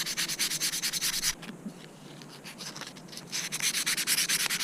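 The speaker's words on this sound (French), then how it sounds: "il faut un peu les poncer et après vous pourrez les monter tranquille" New brake pads for a Husqvarna WRE motorcycle are scraped back and forth on abrasive paper in quick rhythmic strokes, close and loud, with a slower, softer stretch in the middle before the fast rubbing resumes.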